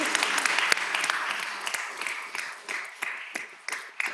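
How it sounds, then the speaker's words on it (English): Audience applause at a city council meeting in South Carolina, a fairly distant room-wide clapping that thins into scattered individual claps with sharp spikes as it winds down over four seconds. "y'all can clap"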